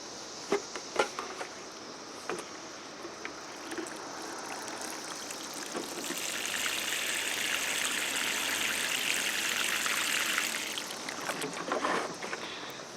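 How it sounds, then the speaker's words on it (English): A watering can pours water onto the soil at the base of plants in a vegetable container pot. The splashing trickle stays steady and close, grows louder midway through, then eases off, with no talking. "watering can towards the bottom of the pot, trying not to get the leaves wet"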